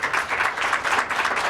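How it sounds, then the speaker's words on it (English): An audience at a Race to Talent event at Muskegon Community College claps for employers. The applause is dense, loud and continuous, with many hands close together and no speech over it. "how about another round of applause for the employers"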